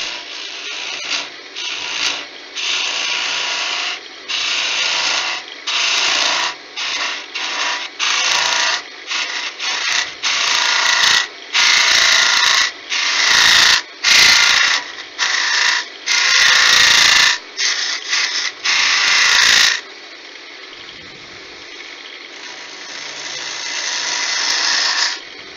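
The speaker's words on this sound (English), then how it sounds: "Does anybody else use a skew to hollow?" Wooden bottle being hollowed on a lathe with a skew chisel, a loud, close scraping and cutting hiss in repeated bursts of a second or two, with short pauses between cuts, then a steadier, quieter run near the end.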